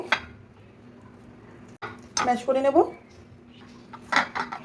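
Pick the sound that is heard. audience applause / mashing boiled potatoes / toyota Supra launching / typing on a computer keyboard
mashing boiled potatoes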